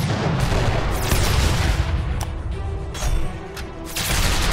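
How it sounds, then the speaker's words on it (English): Artillery opening fire in the strategy video game Codex of Victory: a dense run of booming shots and blasts, loud and continuous, with sharp repeated impacts over a rumbling battle background. "I want the artillery to open up."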